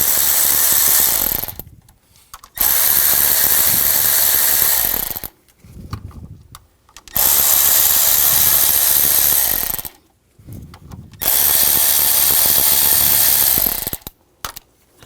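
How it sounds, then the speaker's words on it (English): A ratchet with a 10mm socket spins out the water pump pulley bolts on a 2000-2006 BMW X5 3.0L inline-six. Three long, loud, close mechanical whirring bursts are separated by short quiet gaps. "Now using a 10mm socket, take these bolts out."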